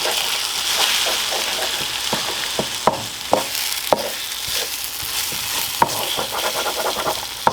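Eggs with big yellow yolks frying over high heat in a pan, a steady close sizzle broken by sharp scraping clicks of a utensil stirring them every second or so, with no talking.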